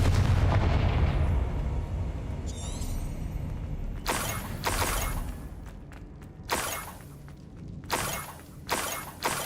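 A Confringo blasting spell going off in a wizard video game: a rumbling roar at first, then a run of sharp, loud explosive bursts and cracks repeating toward the end.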